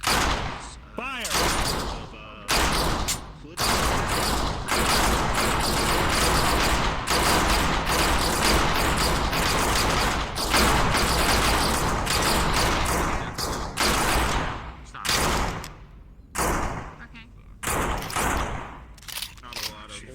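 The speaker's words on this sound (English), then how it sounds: "when you hear her first shot go off, you are free to fire" A roleplay firefight in a video game crackles with rapid volleys of gunshots and bursts of fire, dense and loud, broken by short pauses while a voice talks over the action.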